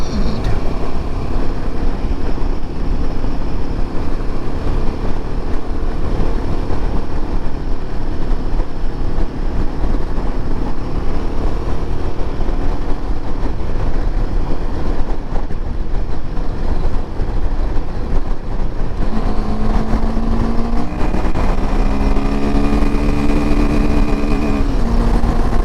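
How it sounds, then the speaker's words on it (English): A Royal Enfield Himalayan 450 motorcycle engine droning under wind and road noise, then climbing in pitch near the end as it bangs against the rev limiter, loud and continuous. "Oh, actually hit the rev limiter there."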